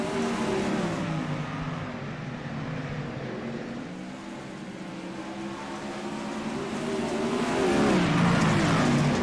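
Open-wheel race cars roaring around the track at Cedar Lake, a loud continuous engine drone that fades slightly mid-way and swells again as cars pass close by, pitch rising and falling with the laps.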